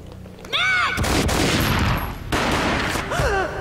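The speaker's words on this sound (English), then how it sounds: "A gunshot boomed and she fell down in slow motion." Gunfire in the Max Payne video game: a loud, dense volley of shots followed by a second burst, framed by short rising cries before and after.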